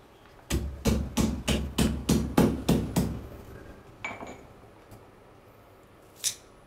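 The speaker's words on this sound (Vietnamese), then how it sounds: "Cắt đôi củ sả ra." Knife chopping lemongrass stalks on a board while herbal hair-wash water is prepared: about nine sharp, evenly spaced chops in quick succession, close and loud, then a pause with a few lighter clinks and one last knock.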